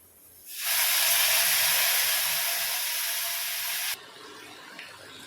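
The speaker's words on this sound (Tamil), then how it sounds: "லைட்டா நம்ம தண்ணி தெளிச்சுக்கலாம்" A loud, sudden hiss as water is sprinkled into a hot pan of broad bean stir-fry, sizzling steadily for a few seconds then cutting off abruptly, leaving a quieter simmer.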